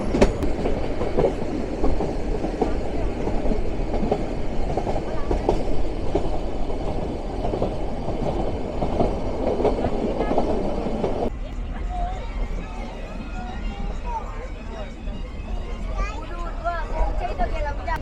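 The Nilgiri toy train runs from Ooty toward Coonoor, a loud, steady rumble of rolling carriages with clickety-clack of wheels close by. Passengers chatter underneath, and the noise drops to a lighter rattle partway through.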